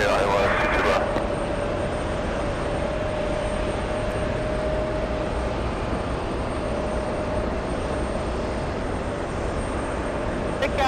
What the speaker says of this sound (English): the next one, JetBlue 164, flying in from Sarasota, Florida